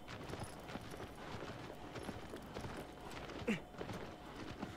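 Rhythmic clip-clop of horse hooves at a walking pace in the video game Shadow of the Colossus, fairly quiet and steady, with a brief squeak partway through.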